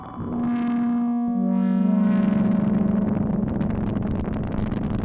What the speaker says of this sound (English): Check out this noise sound.